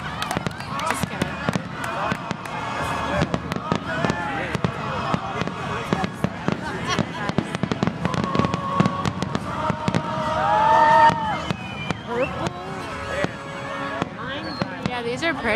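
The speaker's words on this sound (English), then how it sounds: "These fireworks have never happened before. They're so loud." Orange and lime green fireworks explode loudly and repeatedly in a dense, continuous barrage, with excited spectators cheering and talking over the bangs.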